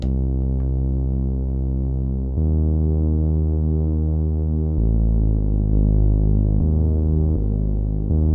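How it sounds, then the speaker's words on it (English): Deep, sustained bass tones from a Nord Drum 3P drum synthesizer play one after another, each new note abruptly replacing the last, humming low and steady without any voices. "now if I play another bass tone, it cuts off the previous one"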